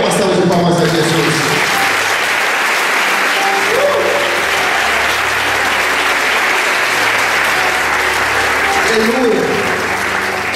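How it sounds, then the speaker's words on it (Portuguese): A church congregation breaks into loud, continuous applause during a worship service, a dense wall of clapping with voices mixed in underneath throughout. "É uma salva de palmas a Jesus."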